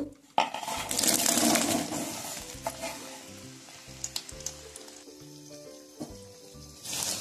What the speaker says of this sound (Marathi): आता या तेलामध्ये हे स्लाइस केलेले कांदे घालू।